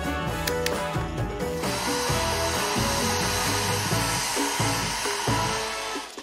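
Hair dryer blowing on a freshly painted canvas base, a steady loud whirring hiss that runs throughout, with a few clicks and handling knocks at the start.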